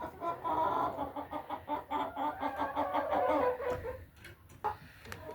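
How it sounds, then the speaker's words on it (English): Production Red hens cluck and murmur inside a chicken coop, a close, busy cluster of overlapping clucks and short calls that rise and fall irregularly, with brief quieter gaps. "we'll go see the chickens that are over there"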